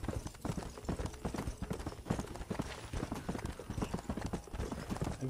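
A horse in the game Red Dead Redemption trots along with steady, rapid clip-clop hoofbeats, close and continuous, with no speech over them.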